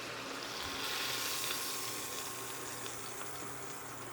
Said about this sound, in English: Go ahead and get a nice sear on all sides on both pieces.